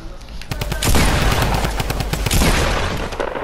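Video game gunfire in Fortnite, with loud rapid bursts of shots close up, one long sustained volley in the middle, and no talk over it.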